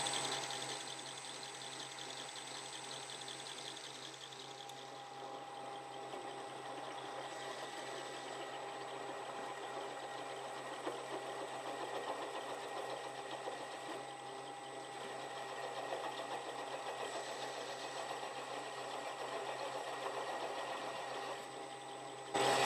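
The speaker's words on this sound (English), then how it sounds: "Put that same countersink in this other hole." A drill turning a countersink bit into a hole in a hand-held piece of sheet metal, a steady whirring motor hum running unbroken and fairly loud for the whole stretch, with no talk over it.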